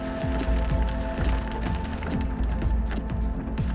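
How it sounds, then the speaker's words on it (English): Light rain pattering on a car, a steady close spread of drops with faint tapping over a low hum from the running car. "just getting a little bit of rain"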